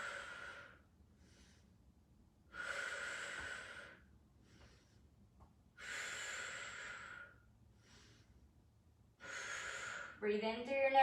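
Deep breathing during a stretching workout: three long, audible, breathy exhales with quieter pauses between, close to the mic, ending as a voice starts to speak.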